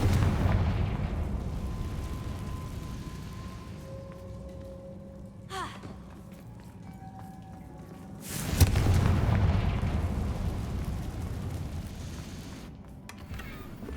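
In the video game Hogwarts Legacy, a Confringo blasting spell goes off as a deep, rumbling explosion mid-clip, preceded by a faint whooshing cast and followed by a fading low roar amid ambient game sounds.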